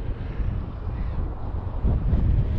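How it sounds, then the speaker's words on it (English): Strong wind buffets the microphone in a steady, heavy low roar, gusting louder toward the end, during a radio-controlled model plane's first flight. "Obviously it's very windy"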